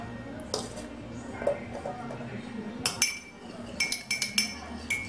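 A spoon clinks against a cup or glass while stirring an ingredient to dissolve it during home cooking, with a few sharp metallic taps clustered near the end and faint kitchen background noise.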